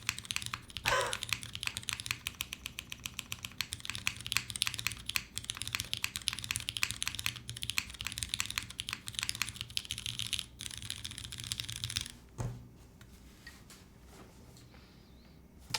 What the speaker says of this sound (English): I've never heard such a scratchy switch. These are Vint Blacks.